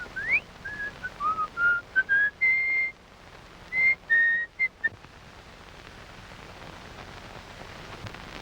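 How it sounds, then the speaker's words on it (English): A man whistles a tune to himself, a string of short clear notes and phrases that stops halfway, leaving faint rain-like background hiss. "You don't mind if a man whistles to himself"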